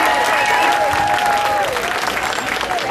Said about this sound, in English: they need a big round of applause to thank them for what they did for us today.